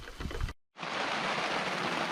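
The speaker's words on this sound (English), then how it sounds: "the rain has started, but we're still playing for now. It's just rain." Steady rain falls at a Northern Nevada campsite, a dense even hiss that cuts out briefly and then resumes at constant strength, close and continuous with no voices.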